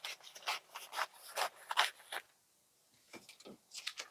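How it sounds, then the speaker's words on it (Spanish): Scissors cut blouse fabric in quick close snips and rustling strokes, then a short pause, then a few more cuts, with no speech. "Aquí lo corto un poquito más ancho."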